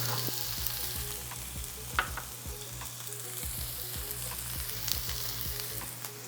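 Onion and green chilies frying in oil with toasted cumin seeds, a steady low sizzle with occasional stirring clicks and a faint hum, no talking.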